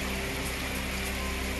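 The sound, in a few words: heavy rain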